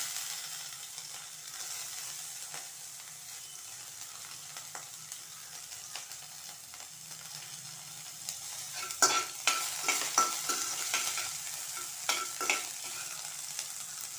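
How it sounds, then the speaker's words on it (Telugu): Green chillies frying in a pan, a soft steady sizzle that grows louder as a spoon scrapes and stirs with a string of clattering strokes near the end. "ఇది వేగాక పచ్చిమిర్చి వేస్తున్నాను"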